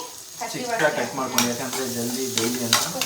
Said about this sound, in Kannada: ಇದು ಸ್ವಲ್ಪ ಮೀಡಿಯಮ್ ಅಲ್ಲೇ ಫ್ರೈ ಆಗ್ತಾ ಇರಲಿ